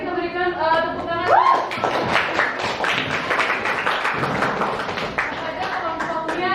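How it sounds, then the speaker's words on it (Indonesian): A classroom audience claps for a student group, a dense patter of hand claps and taps running throughout, mixed with voices and a brief rising tone near the start. "Baik, kita berikan tepuk tangan"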